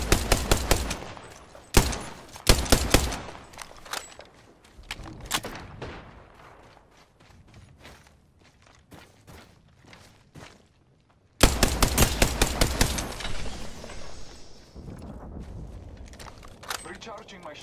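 Bursts of rapid automatic gunfire from the video game Apex Legends, loud volleys at the start, sporadic shots in the middle, then another heavy burst of repeated fire near the end.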